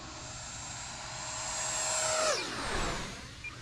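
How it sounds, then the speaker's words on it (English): An E-Flite Viper 90mm electric ducted-fan RC jet sweeps past a runway at sunset, its whine rising as it nears and then dropping in pitch as it passes. Wind rushing over the wings follows, fairly faint and distant. "you can kind of hear the wind rush over the wings"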